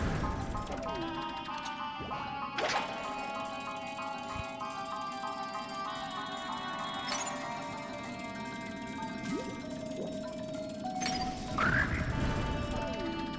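Sand frog enemies in the video game Zelda Skyward Sword letting out croaky calls over steady game music and sound effects, with a person talking.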